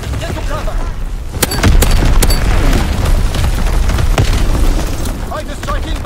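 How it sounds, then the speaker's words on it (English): Enemy artillery strikes in Call of Duty multiplayer: loud booming blasts with sharp cracking impacts and gunfire, a dense barrage of explosions rumbling continuously under shouted battle callouts. "Incoming enemy artillery! Get to cover!"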